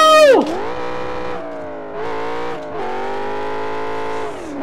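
A car engine in the Need for Speed racing game revs hard at the start, then drops and holds a steady high drone that dips briefly twice before settling again, loud and close with no talking.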